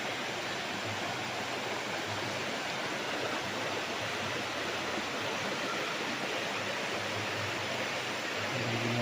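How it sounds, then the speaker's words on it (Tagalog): River water rushes past a farm lot beside a river in Liliw, Laguna, a dense and steady broadband roar that stays loud and constant throughout, with no voices over it. "Ang agos ng tubig"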